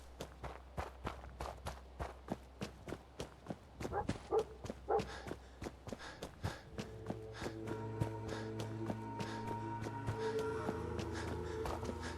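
Dogmeat, the dog companion in Fallout 4, gives a few faint barks and yips among a steady run of footsteps, later backed by a low sustained musical drone.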